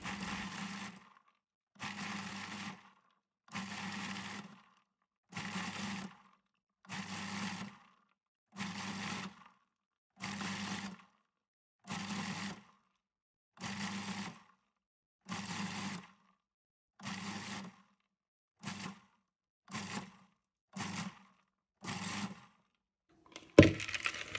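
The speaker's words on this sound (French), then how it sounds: "versez le tout dans un bon turbo-mixeur et mixez par petits à-coups jusqu'à obtenir non pas de la poudre mais de tout petits morceaux" A food processor pulses nuts for gluten-free Italian nougat in about fourteen short, evenly spaced whirring bursts, each roughly a second long with brief silences between, ending with a small clatter; no voices.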